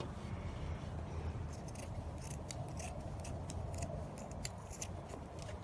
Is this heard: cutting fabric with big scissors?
yes